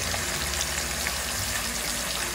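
Water drains steadily from squid in a kitchen, a continuous close gushing and trickling wash with no pauses or talk.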